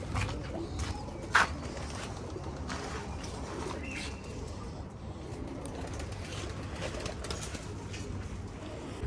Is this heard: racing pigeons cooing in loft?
yes